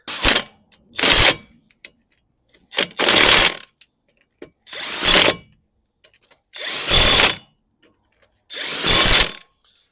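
An impact gun tightens wheel studs on a Vauxhall Vivaro van during a front brake pad job, six short loud bursts spaced about a second or two apart, each a harsh whirring rattle that stops abruptly, with no talk.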